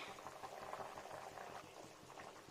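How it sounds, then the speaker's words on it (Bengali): Mrigal fish curry with potato boils in an uncovered pot, a faint, steady bubbling and gentle gurgling heard close up without talk. "ঢাকাটা খুলে দিলাম দেখুন এটা ফুটতে শুরু হয়ে গেছে"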